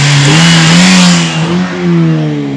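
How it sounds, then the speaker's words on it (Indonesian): A grey Toyota Vios third-generation sedan with street sporty modifications, its engine revving loudly up close, the pitch climbing and dipping through a sustained rev. "Teman-teman dengerin nih suara mesinnya."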